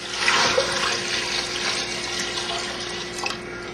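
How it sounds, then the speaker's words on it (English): Cold water running from a tap into a pot of carrots, turnips and sweet potatoes, a steady, fairly loud rushing gush that continues for several seconds without talk. "cover them with cold water."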